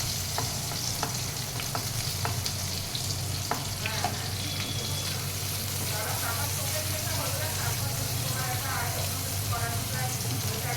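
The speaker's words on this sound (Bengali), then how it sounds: "এর মধ্যে প্রথমে আমি পেঁয়াজগুলো দিয়ে দিলাম।" Onions sizzle steadily in a hot pan at the start of a paneer butter masala, with a dense, continuous fry broken by occasional sharp clicks and some faint voice-like murmur underneath.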